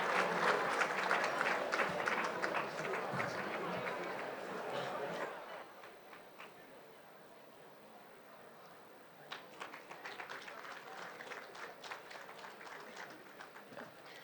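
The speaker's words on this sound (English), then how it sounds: "Ladies and gentlemen, please give them a round of applause." An audience at a certificate ceremony claps in a sustained round of applause, fairly distant and soft, that fades to near quiet midway before a second, lighter wave of clapping rises again.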